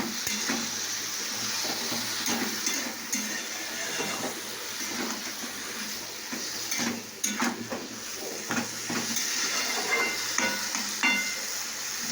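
Greens (saag) being stirred in a pan, a continuous sizzling hiss with rough scraping and clattering strokes of a spoon, close and fairly loud, no talking.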